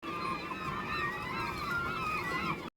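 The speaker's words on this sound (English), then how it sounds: "these gulls are making so much noise" Dense chorus of gulls calling loudly at a salmon hatchery in Alaska during salmon season, overlapping harsh cries throughout, fairly close and continuous.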